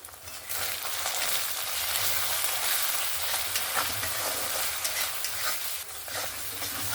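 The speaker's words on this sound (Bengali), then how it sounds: "গুঁড়ো মশলাগুলো দিয়েও আবারও আমি 2 থেকে 3 মিনিট ভালো করে কষিয়ে নেব।" Ground turmeric, chili and Kashmiri chili powders fry in oil in a pan for a lentil fritter curry, giving a steady close sizzle with faint scraping from stirring.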